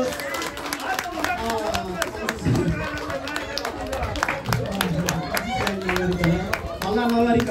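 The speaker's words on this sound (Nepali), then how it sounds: "ताली बजाइदिनुहोस्" An audience of families and children claps on request at a gathering, with quick, uneven hand claps scattered across the stretch and voices talking over them.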